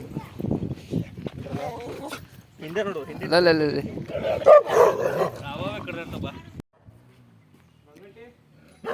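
Two dogs at a large house bark and yip in uneven bursts close by, mixed with a person talking, before the sound drops to near quiet at the end.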